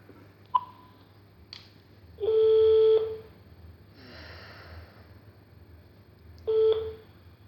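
A telephone number is dialed on a keypad, with clicks and short DTMF beeps, then two longer tones a few seconds apart, close and clear in a quiet room.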